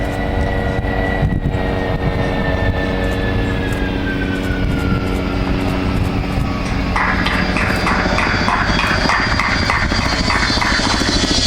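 An Avro Vulcan bomber comes in to land at the Farnborough Air Show, its jet engines a loud, sustained roar with a falling whine that swells and shifts as the aircraft passes close by.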